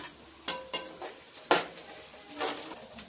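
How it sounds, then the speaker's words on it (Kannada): Curry leaves and coriander drop into hot oil in a pan for an Uttar Karnataka churumuri susla, giving a few sharp clinks of utensils against the pan followed by a soft sizzle, close and without talk. "ಇವಾಗ ಕರಿಬೇವು, ಕೊತ್ತಂಬರಿ ಹಾಕೋತಿದ್ದೀನಿ."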